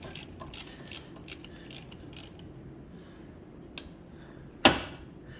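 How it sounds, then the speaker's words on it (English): A 12 mm ratchet clicking rapidly in short bursts while working on a Hyundai Veloster engine, then quieter, followed by a sharp metallic clack near the end. "So get a ratchet with 12 millimeters."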